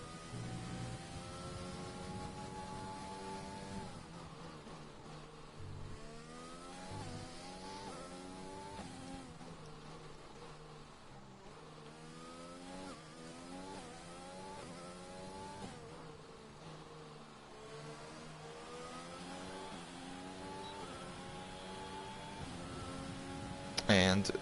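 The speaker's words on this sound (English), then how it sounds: "on board with Cobalt now, as he comes around the twisty second sector." F1 car in a racing video game lapping the twisty second sector at Hungary, a steady engine drone with repeated rising and falling gear-change sweeps over a continuous bed of noise.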